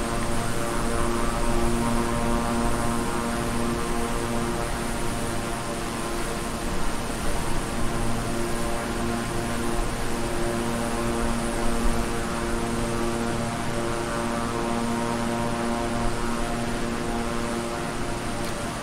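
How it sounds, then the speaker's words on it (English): Steady in-flight drone in Microsoft Flight Simulator aboard a Beechcraft 350i King Air turboprop, constant engine hum and rushing wind noise holding level throughout with no speech. "Starting to hear some wind up here."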